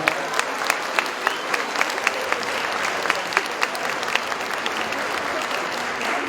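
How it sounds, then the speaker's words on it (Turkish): Sustained audience applause for a Turkish folk music choir and orchestra at the closing of an Ankara concert: a full, continuous roar of hands with crisp individual claps popping through at a steady rhythm. "Bu bitmeyen alkışlarınız koromuz için ve orkestramız için aynı zamanda."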